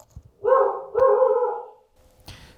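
A single dog gives two drawn-out, howling barks nearby, each lasting under a second, followed by a short sharp noise.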